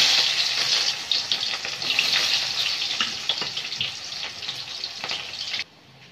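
Chopped onions sizzle and crackle steadily in hot oil for chicken curry, a dense close hiss with small pops, cutting off abruptly near the end.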